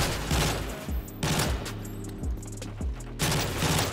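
Type 95 rifle in Modern Warfare 3 firing three-round bursts, several distinct clusters of sharp rapid shots separated by brief pauses, moderately loud and with no talk over them.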